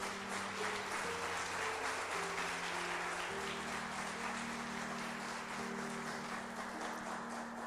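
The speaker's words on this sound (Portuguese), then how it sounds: "Dá uma salva de palmas para Ele, porque Ele é digno." A church congregation claps steadily and densely through the whole stretch, a continuous wash of applause carried over sustained keyboard chords that shift pitch now and then.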